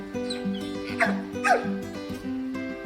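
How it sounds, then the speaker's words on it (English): A dog gives high, wavering whimpers and yips over a steady droning background tone, a few rising cries clustered in the middle of the stretch. "People who have reared dogs are familiar with the dog whine, which is heartbreaking."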